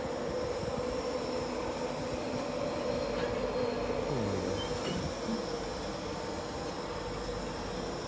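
An LNER InterCity 225 with Mark 4 coaches, pushed by its rear power car between Stevenage and London King's Cross, heard from inside as a steady loud rumble of wheels and motion with a faint rising squeal partway through.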